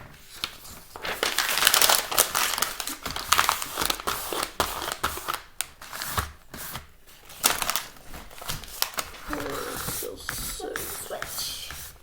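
Paper is crumpled and scrunched by hand to wipe a wet desk, giving close, dense crinkling and crushing bursts that come and go in an uneven rhythm, with occasional voices mixed in.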